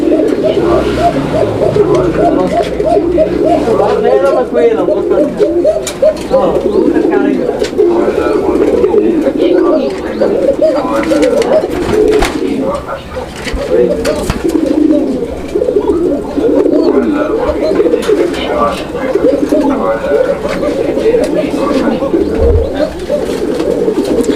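A pair of Basiraj Koka pigeons coos continuously up close, with loud, overlapping throaty calls repeating throughout.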